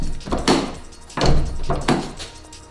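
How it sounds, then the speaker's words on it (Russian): Nissan Teana door on a car under body repair after long storage, opened and shut several times: solid thunks with latch clicks, close by and fairly loud, spaced about a second apart. "Но дверь также легко открывается, закрывается."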